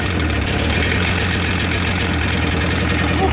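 A vehicle engine warms up outdoors on a winter trip in Siberia, idling loudly and evenly with a knocking, clattering undertone that stays constant from start to finish, with no speech over it.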